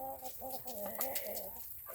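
A young rooster gives a run of quiet, wavering clucks and chirps nearby, faint and unaccompanied over a soft background.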